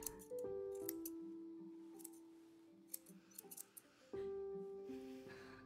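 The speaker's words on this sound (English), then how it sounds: "Watch where you're doing them fucking scissors." Scissors snipping in the video game Tell Me Why, a few faint, short clicks scattered over sustained in-game music.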